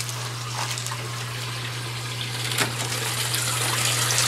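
Water pours steadily into an IBC aquaponics sump tank, a continuous gushing, splashing flow at moderate distance, alone, with a constant low pump hum beneath it.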